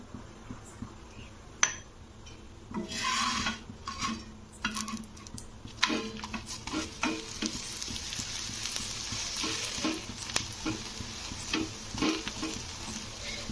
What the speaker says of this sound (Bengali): এবারে আমি অল্প অল্প তেল দিয়ে ভেজে নেবো